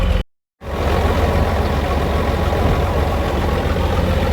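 A John Deere 7060 tractor idles steadily beside a cornfield, a loud, continuous low rumble after a brief dropout near the start.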